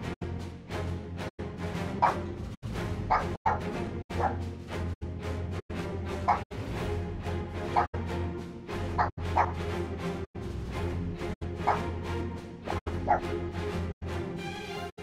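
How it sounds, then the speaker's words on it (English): A dog barks repeatedly in the background, sharp yips and bow-wows spaced about once a second across the whole stretch, over a low indoor hum with no talking. "I apologize for the dog barking in the background."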